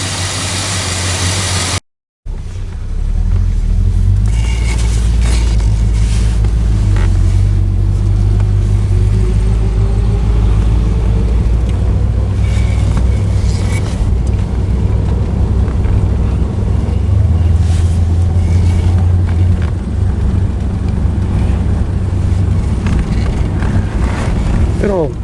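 A restored 1964 Chrysler 300K convertible runs steadily for the whole stretch, its engine a loud, close, even rumble broken only by a brief dropout near the start, with wind buffeting the microphone.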